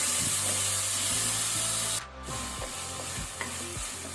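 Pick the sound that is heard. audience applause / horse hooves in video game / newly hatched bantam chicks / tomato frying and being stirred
tomato frying and being stirred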